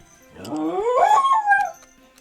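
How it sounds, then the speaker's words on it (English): A dog lets out a single drawn-out howl that rises and then falls, with a few yips mixed in, loud and close in a quiet room. "Strange conversations of a dog."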